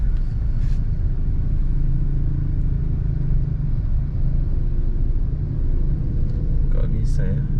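Congested traffic on Batu Aji road in Batam at around three in the afternoon gives a constant low engine rumble and idling drone close by, with a faint horn or brief whine briefly rising above it near the end.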